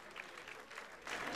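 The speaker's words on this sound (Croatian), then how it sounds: "Jedan aplauz za njega" Audience applause at a professional boxing event in Herceg Novi, a faint, distant patter of clapping that swells slightly toward the end, with no one speaking over it.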